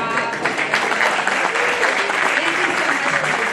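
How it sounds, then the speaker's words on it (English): Loud, dense applause fills a room after a candidate at a meet-the-candidates event is introduced, steady and close for a few seconds with voices mixed into the clapping. "Applause for Joanne Rabati,"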